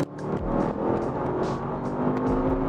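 A 600-horsepower Audi RS6 engine hums and drones steadily while driving, with a strong tonal growl and slight swells in revs, close and unaccompanied by talk.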